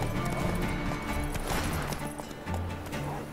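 Roach, a horse in The Witcher 3, gallops with rapid hoof clip-clops over game music and ambience, with a brief whinny mixed in, close and steady.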